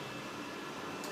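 A Ecovacs Deebot Ozmo T8+ robot vacuum cleans with long side brushes sweeping dust inward, giving a steady, even whirring hum of motor and suction at moderate, close level, with no voices.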